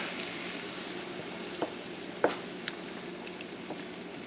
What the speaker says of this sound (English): Next, we're going to add in our tomatoes. We're going to blend everything in together.